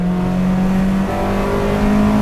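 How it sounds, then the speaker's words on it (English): Track-focused Acura RSX engine revving loudly in-cabin as VTEC engages, a steady harmonic drone that rises in pitch partway through, continuous throughout. "You hear that VTEC engage, and it sounds fantastic."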